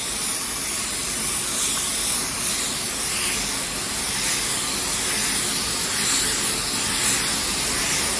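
A spray gun lays a final coat of colour onto a car body, producing a continuous, even airy hiss that stays close and steady throughout with no pauses or talk.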